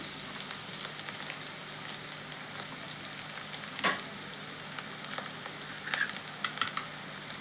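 Cabbage and chana dal cooking in hot oil give a steady, soft sizzle with faint crackles and a few brief stirring scrapes, close and unaccompanied by voices.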